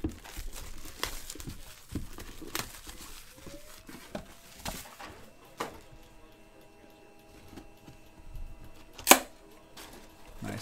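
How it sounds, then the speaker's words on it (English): A 2018 Panini National Treasures Collegiate Football card box being cracked open, with scattered crinkling and rustling of packaging, a few sharp snaps and one loud crack near the end, fairly close in a quiet room. "Love that crack of the NT box."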